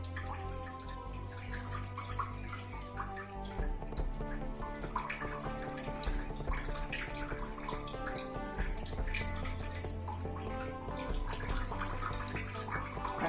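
Water trickles and drips out through a small hole in a lid in a home kitchen, a faint, continuous splashing and gurgling without pause.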